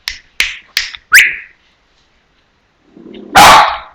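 A small dog barks four sharp yips in quick succession close by, then after a pause lets out a rougher, louder bark preceded by a low growl.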